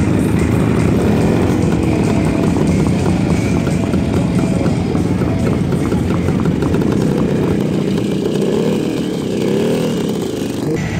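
A vintage FKL motorcycle engine runs steadily and loudly close by, a dense continuous engine roar with no talk, at a vintage motorcycle rally.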